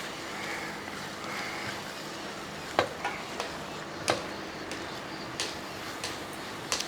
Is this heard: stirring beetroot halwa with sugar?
yes